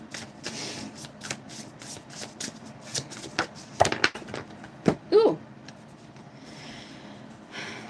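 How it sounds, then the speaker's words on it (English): Tarot cards are shuffled up close in short, crisp riffling and slapping bursts, separated by quiet pauses. "Let's get one more card for you guys."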